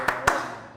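Two sharp group claps a moment apart, part of a rhythmic clap chant led at a stand-up comedy community gathering, crisp and close with a short room tail after each.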